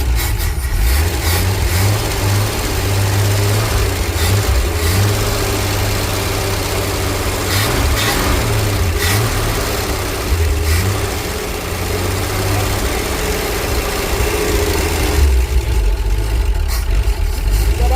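A 1966 Ford Econoline van engine runs loud and close, rough idling with repeated revs that swell and fall, a brief softer stretch midway, then a stronger rev toward the end.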